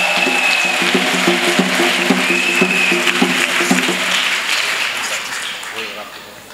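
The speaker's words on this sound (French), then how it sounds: "Acclamation à Jésus-Christ." A church congregation applauds in a dense, steady wash of clapping, with cheering mixed in. A held musical tone sounds underneath, and the applause eases slightly toward the end.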